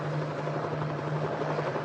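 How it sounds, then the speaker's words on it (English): A helicopter flies overhead in a 1990 film, its steady rotor drone holding low and constant with no speech in the clip. "You got a helicopter searching?"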